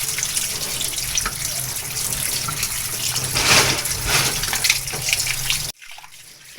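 Tap water runs steadily into a sink while raw chicken feet are washed, a loud, continuous hissing splash that cuts off abruptly near the end.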